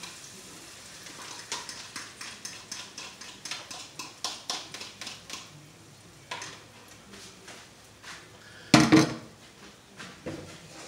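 Eggs going into a pan of sautéed vegetables for an omelette: a series of soft clinks and taps on the pan with a faint sizzle, followed by one louder sharp clatter near the end.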